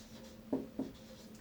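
Handwriting a short Hindi word with a pen on paper: three soft, close scratching strokes in quick succession over a faint steady hum, with no talking.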